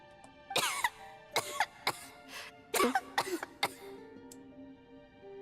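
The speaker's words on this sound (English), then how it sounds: "How long have you had that cough, Tonya?" A character in Genshin Impact coughs in several harsh, raspy fits, clusters of two and three coughs with short gaps between, close and fairly loud over faint game ambience.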